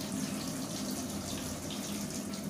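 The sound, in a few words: water seeping through mung bean sprouts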